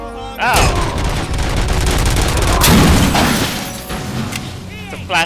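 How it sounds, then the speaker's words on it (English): A flash grenade goes off in the RoboCop: Rogue City shooter game amid heavy gunfire, a loud dense barrage of booms and shots lasting several seconds, with a sharp final burst and brief voice-like sounds near the start and end. "It's a flash grenade."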